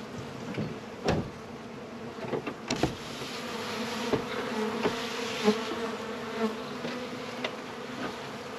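Honey bees buzzing around the hives at a large apiary, a continuous near swarm hum with scattered louder passes and a few knocks and clicks of equipment, no talk.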